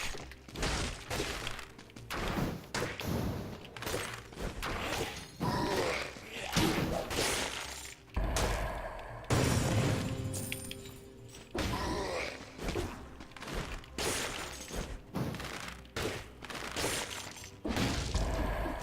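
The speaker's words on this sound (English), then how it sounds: "The sandals are for kicking things off of pits and into walls" Thuds, impacts and shattering crashes from kicking enemies into walls with sandals in the action game Dead Cells, dense and busy under layered game music and effects.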